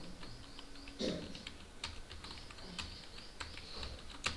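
Someone types code into a computer keyboard while writing CSS for a dropdown menu. Quiet, irregular key clicks and taps come in uneven bursts, fairly close, with no talking.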